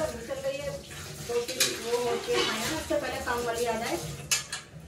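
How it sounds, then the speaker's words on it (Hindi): Pots and dishes being washed in a home kitchen: metal clinks and scrapes with running water, fairly quiet and continuous, under faint background talk. "इससे पहले थोड़े बर्तन धो के तो खुद ही लगाने पड़ते हैं"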